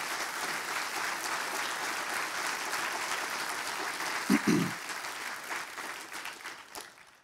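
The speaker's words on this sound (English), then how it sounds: "Let's give them all a round of applause for their support." An audience at a military induction ceremony in Glendale, Arizona applauds its sponsors with sustained clapping, a couple of louder thumps near the end, before it tapers off.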